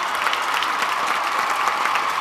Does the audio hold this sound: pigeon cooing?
no